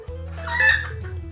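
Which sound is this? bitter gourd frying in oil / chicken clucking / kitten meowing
chicken clucking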